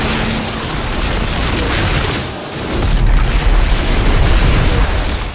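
Heavy explosions rumble continuously in the game Call of Duty: Modern Warfare 3 as New York is bombarded, a loud, dense roar of booms with a brief dip before a deeper blast swells.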